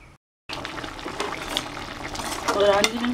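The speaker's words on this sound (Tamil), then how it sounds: "எப்படியும் 1-5 நிமிஷம் கொதிக்க விட்டுங்க." A drumstick-leaf stir-fry simmers in a pan with a bubbling, hissing sizzle that starts after a brief silence and gradually grows louder, with faint voices in the background.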